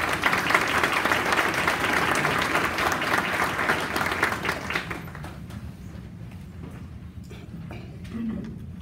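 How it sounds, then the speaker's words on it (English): An awards-ceremony audience breaks into loud, dense applause that carries strongly for several seconds, then thins into scattered, fading claps near the end. "Let's give them a round of applause."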